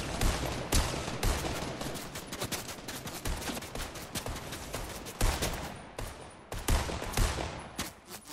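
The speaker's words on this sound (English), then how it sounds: "I'm getting sniped from up there." Dense, continuous gunfire in a Fortnite Chapter 1 fight with snipers, sharp shots and rapid bursts crowding together at close range throughout, with no pauses.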